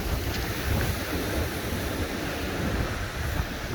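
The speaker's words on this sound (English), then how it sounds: "So one side has wind, one side doesn't have wind" Strong wind roars steadily across a cliff-top hiking trail on the Baltic Klint in northern Estonia, a loud continuous rush buffeting the microphone with no pauses or voices.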